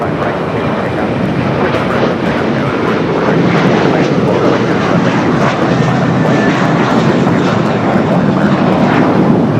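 Atlas Air Boeing 747 on its takeoff roll, a loud, sustained jet engine roar with a dense low rumble that holds steady and close throughout.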